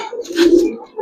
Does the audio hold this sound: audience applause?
no